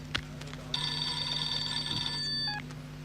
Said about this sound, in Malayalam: Sir sir sir phone.